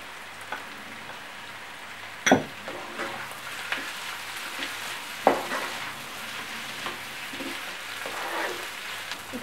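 Peas fry in a pan for veg noodles with a soft, continuous sizzle, punctuated by a few sharp clinks and scrapes of a utensil against the pan.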